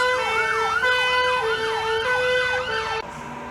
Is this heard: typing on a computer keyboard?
no